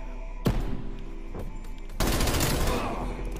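PPSH-41 submachine gun firing in the Call of Duty Cold War video game, a short burst and then a longer rapid sustained burst of loud crackling gunfire, close and dense.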